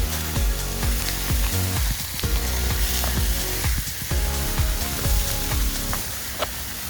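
Burgers fry on a Blackstone griddle, a loud, close, steady sizzle with periodic spatter and soft scraping bursts, no voices.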